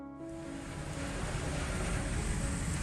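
A ferry to Ocracoke crosses open water off the Outer Banks, with a steady rushing roar of engine, water and wind building slightly and holding at a moderate, distant level.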